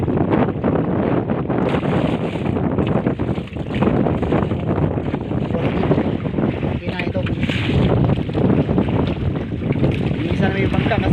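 A Filipino fishing bangka with a 16-horsepower engine running at sea, a steady loud motor drone blended with heavy wind buffeting and water rush, continuous throughout, with people talking over it.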